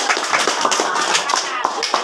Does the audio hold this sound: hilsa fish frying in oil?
no